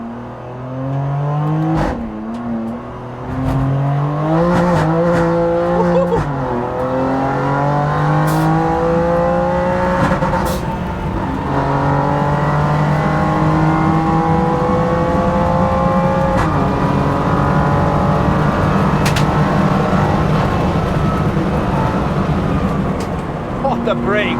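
A BMW G82 M4 on its first lap around the Nürburgring on cold tires, engine revving hard through repeated upshifts with rising pitch sweeps and gear-change breaks, loud and close from inside the car, a voice talking over it.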